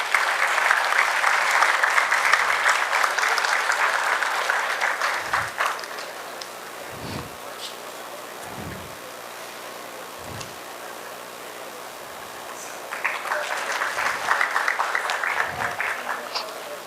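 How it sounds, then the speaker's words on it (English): An audience at a distinguished lecture on the Indian space program gives a loud round of applause that lasts several seconds, then fades. Low thuds and quiet room noise follow, and the clapping returns strongly near the end. "Let us have a huge round of applause to welcome sir."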